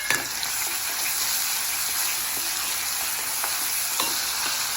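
Onion and tomato frying in hot oil for a garlic-cashew curry, a dense continuous sizzle with faint stirring clicks, close and steady with no voices.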